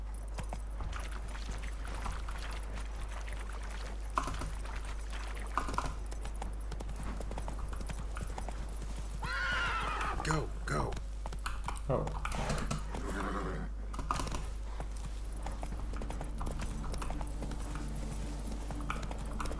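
Clip-clop hoofbeats of Roach the horse in The Witcher 3, steady beneath a loud game soundtrack and effects, with a whinny partway through and a man briefly exclaiming.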